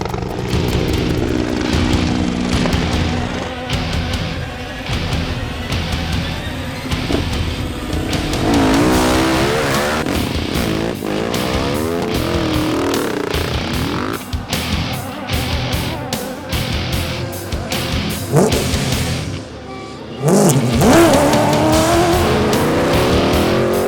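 Rally cars race off-road across a fast desert special stage of the 2015 Pharaons Rally in Egypt, engines loudly revving and roaring continuously, with passing bursts and sliding tyres, no voices.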